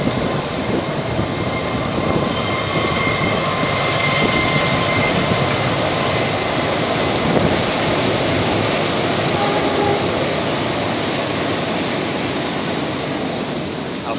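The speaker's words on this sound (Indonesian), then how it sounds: "Alhamdulillah, kereta api lewat tadi ya, dari arah barat ke arah timur." A train passes, traveling from west to east, as a continuous broad rumble and roar that holds steady for the whole stretch, with no talking over it.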